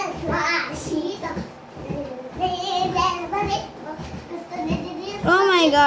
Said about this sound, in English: Sorry for the noise, guys. I got a lot of kids.